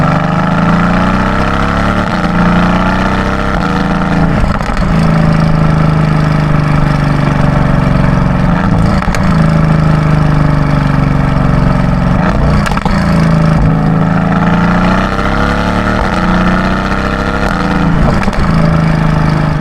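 A Mercedes-AMG GT S engine pulls hard in sport mode in second gear, a loud, close, continuous deep growl with rising pitch and brief dips at gear changes, heard alone with no speech.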